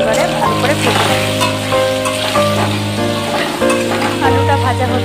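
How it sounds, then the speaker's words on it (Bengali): Potato pieces frying loudly in hot oil with cumin seeds and bay leaf, salt and turmeric added, a steady close sizzle with occasional stirring scrapes running throughout. "তারপরে দিয়ে দিচ্ছি টুকরো করে কেটে রাখা আলু, দিয়ে দিলাম নুন আর হলুদ। এবারে ভালো করে ভেজে নেব।"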